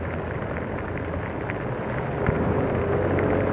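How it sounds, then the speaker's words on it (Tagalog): Heavy, nonstop rain pours down on a stormy day, making a loud, steady wash of noise that swells slightly toward the end, with no one talking. "Grabe yung ulan, walang tigil kanina pa."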